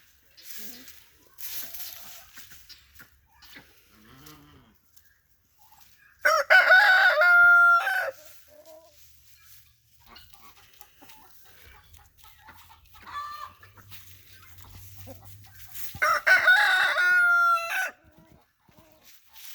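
A Buff Orpington rooster crows twice, loud and close, each a long harsh cock-a-doodle-doo, with soft clucking and quiet farmyard sounds in between.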